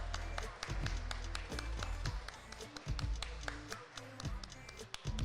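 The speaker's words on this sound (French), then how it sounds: "j'aimerais vraiment qu'on applaudisse pour le tournoi et pour le parcours Ryuzetsu s'il vous plaît" Applause from an audience after the grand final of a Street Fighter 6 tournament at the GEC in Nancy, a steady patter of clapping mixed with crowd noise and low rumbling beneath, continuing throughout.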